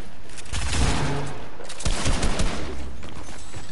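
Rapid gunfire from Fortnite gameplay, including a shot fired through a wall, crackling in dense bursts over a noisy game mix with a sharp loud crack partway through.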